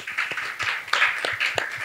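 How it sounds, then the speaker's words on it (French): Audience applause for the guests at a Beninese magazine-show recording, with scattered, fairly light claps in an uneven rhythm, moderately close. "Est-ce que nous pouvons applaudir pour nos invités"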